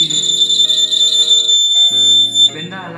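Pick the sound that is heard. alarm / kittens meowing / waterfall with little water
alarm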